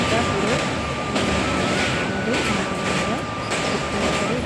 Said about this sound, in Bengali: রাতে ট্রেন চালে যাওয়া হয়।